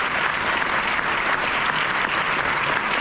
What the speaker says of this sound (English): So if we can give the whole group a round of applause